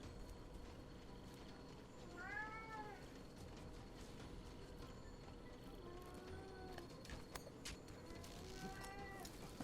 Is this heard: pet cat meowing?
yes